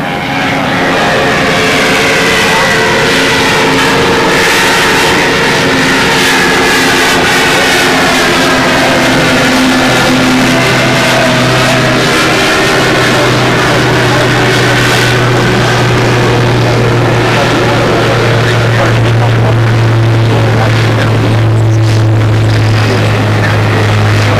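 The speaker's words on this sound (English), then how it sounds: "Is that the jet going?" A jet aircraft engine spools up at a windy 1997 model aircraft nationals event, a loud, continuous roar close by with a tone that slowly drops and deepens over about twenty-five seconds, and no voices are heard.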